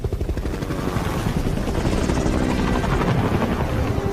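Massive helicopters carrying a huge dome in a Simpsons episode, their rotors producing a loud, steady, close chopping roar that never lets up, with no voices over it.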